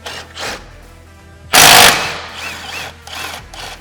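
Impact tool removing the upper shock bolts on a Polaris RZR XP 1000, one loud, sharp rattling burst of about half a second amid quieter workshop noise.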